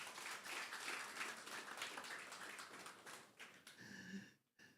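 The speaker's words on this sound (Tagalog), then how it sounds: "Pumalakpak nga ng malakas." Church congregation applauding in a burst of steady clapping that fades out after a few seconds, heard at low level.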